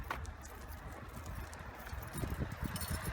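A donkey walking on hard ground, its hooves making soft, irregular clip-clop steps that grow a little louder toward the end, heard close up and alone.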